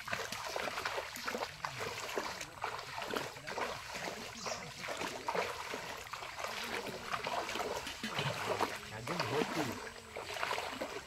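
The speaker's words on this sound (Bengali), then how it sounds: "তা আমাদের যে নৌকাটা নিয়ে আমরা নদীতে যে প্রোগ্রাম করি সে নৌকার জলটা একটু ফেলে আসি।" Rainwater is scooped and poured out of a wooden boat on a river in the Sundarbans forest, giving a continuous run of close splashes and trickles, with muffled voices in the background.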